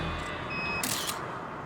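A roadside speed camera fires, giving a brief, sharp mechanical click-burst of its shutter over a steady background hum.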